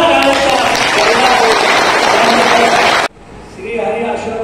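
A crowd at a trekking club's centenary celebration applauds an Everest-climber chief guest with dense, loud clapping that stops abruptly after about three seconds, leaving a quieter hall.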